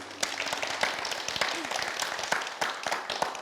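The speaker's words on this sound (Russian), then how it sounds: "Спасибо, аплодисменты." Audience applause after a regional government chairman's talk: dense, steady clapping with sharp individual claps throughout, fairly close and continuous for a few seconds.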